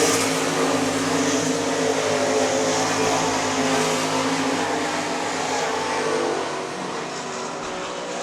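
Sprint cars roaring through the final turns at Crawford County Speedway, a dense, loud, sustained engine drone from multiple cars that eases slightly toward the end.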